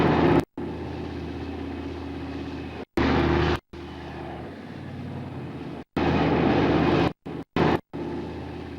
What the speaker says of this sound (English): and the Leopards rumble forward.